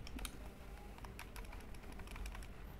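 Rapid clicking keystrokes as JavaScript code is typed on a computer keyboard, a quiet, close, irregular tapping that carries on with no talking.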